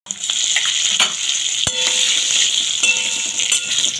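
Steady, bright frying sizzle of potatoes in hot oil with turmeric and salt, with a few sharp clinks of a utensil against the pan.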